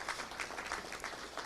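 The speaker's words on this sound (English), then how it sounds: "Yeah, it's worth a round of applause" A round of audience applause at a Little Rock Touchdown Club luncheon, a dense, continuous patter of clapping from a room full of people, steady and moderately loud.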